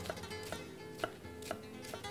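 A knife chops garlic finely on a board, about five evenly spaced, crisp taps in a steady rhythm, close and fairly quiet.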